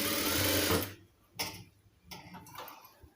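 A sewing machine stitching a cloth face mask runs in a loud continuous burst, stops abruptly, then gives a few short sharp ticks and brief stitch bursts close up.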